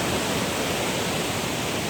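A waterfall at a mountain prayer site on Jirisan, Korea, roars steadily in the rain, a dense unbroken rush of falling water close by with no voices.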